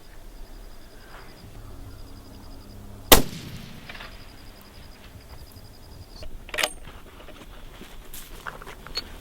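Rifle fire from a Remington 300 Ultra Mag or a 6.5x284 Norma rifle at an outdoor range: one sharp, loud crack about a third of the way in, then a fainter sharp clatter later, against quiet background.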